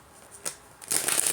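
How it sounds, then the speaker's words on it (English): A short, close shuffle of a Modern Witch Tarot deck gives a single soft tap, then a sustained papery riffle of cards. "Give it a quick shuffle."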